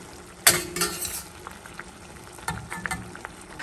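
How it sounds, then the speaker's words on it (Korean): Tofu pan-frying on a stovetop burner beside a pot of simmering radish, with a burst of sizzle at the start and steady crackling through the rest, punctuated by a few light utensil clicks. "한쪽에는 무를 익히고 한쪽에서 두부를 지져내면 시간도 절약되고 그릇 사용도 줄일 수가 있죠"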